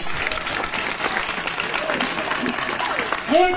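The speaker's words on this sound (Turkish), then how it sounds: "komutanımıza kuvvetli bir alkış." Crowd applause at a summer event in a village, a dense wash of clapping from a gathered audience held at a steady level, with voices mixed in and a brief loud vocal sound near the end.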